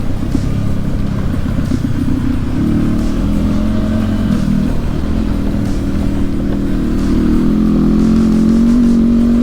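A 2021 KTM 390 Adventure motorcycle with traction control on is held at full throttle off road, a loud, close, sustained engine drone that rises gradually in pitch as it strains to pick up speed.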